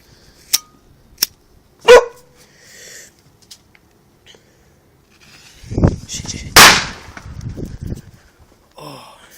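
Small firework going off outdoors: a few sharp cracks and pops, then a louder burst with a crackling rush, a dog barking nearby and scattered faint noise after.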